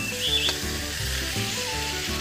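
Sichuan food sizzles in a hot wok during stir-frying, a steady, dense crackle that runs without a break, with soft clinks and a background hum mixed in.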